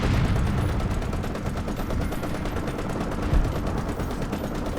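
Machine gun fire in the video game War Thunder from a French Char D2 medium tank, rapid continuous bursts of loud, close rattling shots that carry on without a pause.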